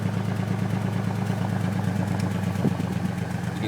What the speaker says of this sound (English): You can definitely hear it's kind of sputtering out of this side. Every couple shots it kind of does it.